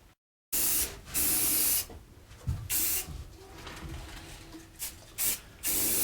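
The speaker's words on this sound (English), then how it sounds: "I'm just spraying the back chamfer just to make sure that that back bevel gets some spray in there" A spray can sprays finish onto the back chamfer of a wooden sign in a woodshop, in several hissing bursts of a second or so with short pauses between them, close and loud.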